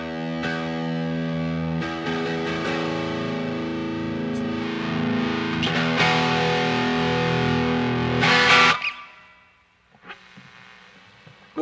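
Guitar played through effects at a live cover show: a sustained, heavily distorted chord wash ringing for several seconds, swelling and then cutting off sharply into a quieter, thinner tail, with no talking.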